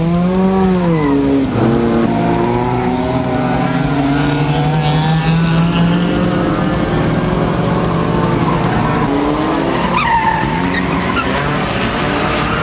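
Race car engines snarl and whine through a night enduro demolition race, with rising and falling revs, tire skids and squeals, and a loud, continuous mechanical roar close by throughout.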